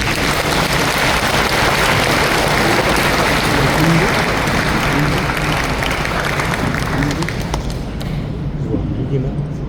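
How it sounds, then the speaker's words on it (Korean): A church congregation applauds during the closing worship service of a national men's fellowship convention. The clapping is dense and sustained, then thins out and fades near the end. "이규남 회장님을 큰 박수로 모시겠습니다"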